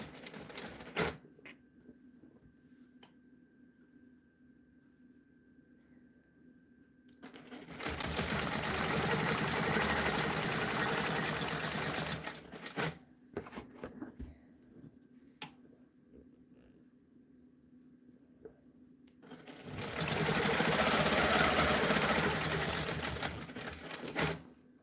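A sewing machine quilts a continuous border, stitching in the ditch, running in two long steady bursts of rapid stitching separated by quiet stretches, close and clear with a faint hum between runs.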